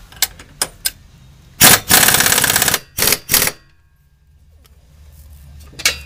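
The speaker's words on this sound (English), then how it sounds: "we're finished tightening everything using an air impact gun in this case" An air impact gun tightens bolts on a rear bumper step bracket of a Sprinter van, firing in short loud rattling bursts separated by pauses, with a few sharp clicks and clanks between them.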